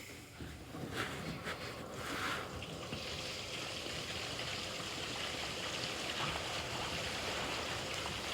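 Flushed toilet water rushes through a residential sewer pipe, a steady hollow gurgling flow heard from inside the line, faint at first, then swelling to a continuous wash.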